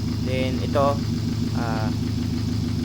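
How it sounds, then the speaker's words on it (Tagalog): A well-maintained Subaru engine idles with a steady low hum, close and even, while someone talks over it. "talagang napakaganda pa ng makina, no? Kasi kung papakinggan natin talagang well maintained to."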